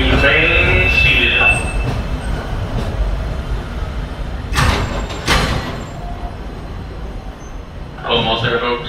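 The Magic Kingdom Railroad train at Disney World rolls into Frontierland Station with a loud, continuous rumble and rattle of cars, a screech and sharp metallic clanks along the way, while an announcer talks over it.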